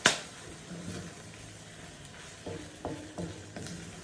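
A spoon scrapes and clacks against a pan of tomato sauce for a beef tongue estofado, a few soft knocks over a faint, steady simmering hiss.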